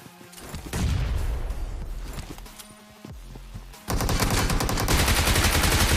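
Sustained bursts of automatic gunfire in a solo-versus-squad battle royale match, with rapid, dense shots that pause briefly and then resume loudly and continuously.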